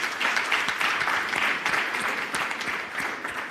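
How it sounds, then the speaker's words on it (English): An audience applauds a conference panel with dense, continuous clapping at moderate loudness that lasts the whole stretch and fades slightly toward the end. "I would please urge us to give them another round of applause."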